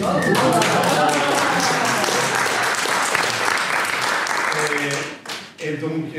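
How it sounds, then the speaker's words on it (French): Audience clapping at a business talk, lively dense applause from a room of people that thins out near the end as a voice begins speaking over it. "N'applaudissez pas, vous l'encouragez"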